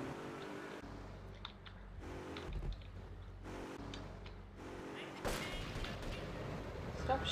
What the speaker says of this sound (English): Stop shooting at me, you bastards.